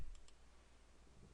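Two quick, light computer mouse clicks come close together near the start, close and crisp, followed by a faint room hum while measuring points in Aberlink 3D Mark IV software.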